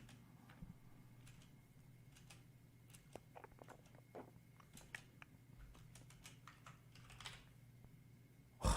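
Typing on a computer keyboard, quick irregular bursts of soft key clicks close by and fairly quiet, with a steady low hum underneath and no one speaking.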